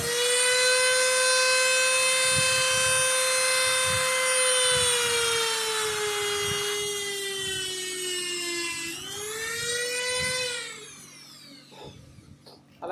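A drill machine bores into a bamboo flute with a steady high-pitched whine that sags in pitch under load, rises again, then cuts off near the end, with faint knocking beneath.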